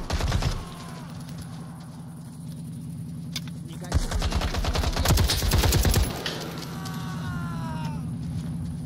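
Rapid bursts of AK rifle fire from a video game crackle loudly over a steady game hum, and a voice speaks partway through.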